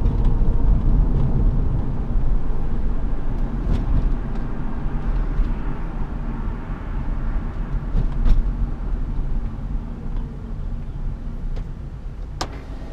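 Cabin of a 2003 Honda Accord 2.4 i-VTEC K24 with automatic gearbox, driving along: a steady low engine and road rumble fills the interior continuously, with a few faint clicks and no voices.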